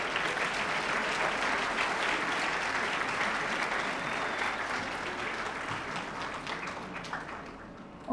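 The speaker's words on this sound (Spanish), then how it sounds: "Les pido por favor que les brindemos un fuerte aplauso." An audience at an interdisciplinary arts and humanities congress gives sustained applause, a dense wash of clapping that holds steady for about eight seconds and then thins out at the end.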